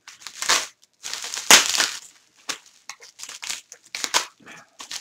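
A mail package is cut and torn open with a knife, with irregular bursts of crinkling, crunching and ripping packaging, some loud and close, separated by short quiet gaps.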